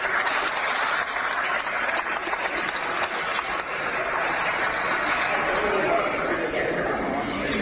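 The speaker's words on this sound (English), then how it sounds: "Let's listen to the applause." Applause in the House chamber, a broad continuous wash of clapping with crowd murmur and some chatter mixed in, heard from a distance through a broadcast.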